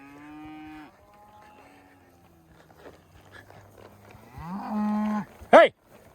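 Cattle on a Montana ranch, moved along by a rider, low and bellowing: a drawn-out moo opens, quieter lowing follows in the middle, then a loud close moo and a sharp, higher bawl near the end.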